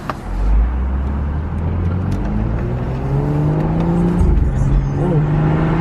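A BMW 440i coupe's engine pulls hard with a deep, rising rumble and climbing harmonics as it revs up, loud and close from inside the cabin, with people talking over it.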